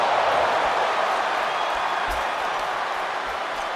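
Crowd in the WWE 2K23 video game cheers continuously at a Hell in a Cell event, a dense, roaring wall of arena noise with clapping mixed in and no single voice standing out.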